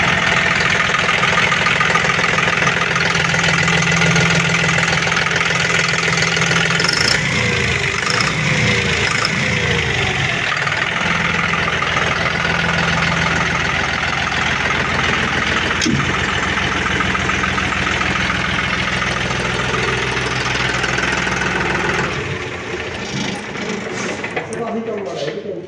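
A John Deere 5210 Gear Pro tractor, 2024 model, idles steadily with a continuous diesel drone and some rattling, fairly close, with brief clatter midway and a drop in level near the end.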